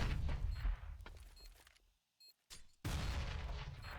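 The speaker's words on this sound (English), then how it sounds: "Frag grenade just continuing to chip damage off of Optic." Frag grenade explosions during a CS:GO esports match, heavy booming blasts and crackling gunfire, loud and dense, cutting to near silence for a moment before another loud burst.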